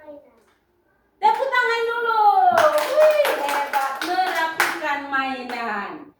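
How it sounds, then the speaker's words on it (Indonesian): Children in a classroom clap their hands in a rhythmic burst of sharp claps while a voice speaks and sings over them, the claps fairly close and mixed under the voice. "Tepuk tangan dulu."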